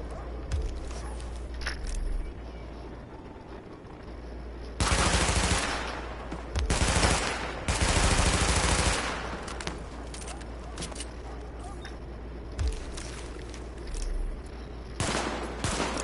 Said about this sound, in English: Open fire at the highlighted targets.